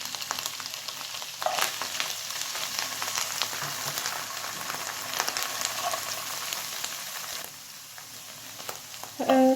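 Drained canned mushrooms sizzle steadily in a hot frying pan, a dense continuous crackle with occasional stirring clicks, close and alone with no talk.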